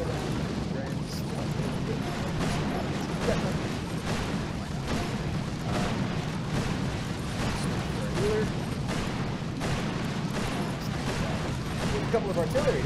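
Artillery fire in an online multiplayer video game, repeated heavy booms and rumbling blasts pounding through a dense, noisy battle mix while players talk over it.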